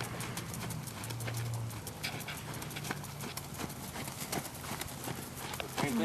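A horse trots at a steady pace under a rider posting the trot, its hoofbeats a quiet, even clip-clop over a rough outdoor background.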